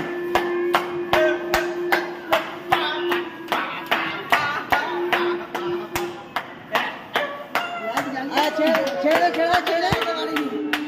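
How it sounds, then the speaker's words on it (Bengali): Hands clap in a steady, sharp rhythm at an outdoor science city in old Digha, the claps close and loud while people talk and a tone hums in the background. "এটা হাততালি তো আমি হাততালি দিয়েছি"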